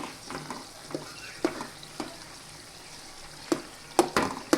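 Garlic chutney and red chili powder are stirred into a simmering bottle gourd curry in a pan. A spoon scrapes and stirs in several close strokes over a soft steady sizzle.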